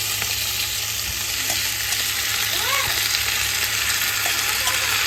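Boiled bottle gourd pieces frying in a pan for a milk curry, a loud, close, even sizzle with soft stirring scrapes, steady for the whole stretch.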